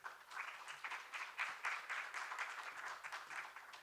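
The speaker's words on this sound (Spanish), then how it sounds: "Así que un aplauso para la doctora." Audience applause for a doctor at a hematology conference, dense steady clapping from a crowd that continues evenly, fairly faint and distant, with no voices.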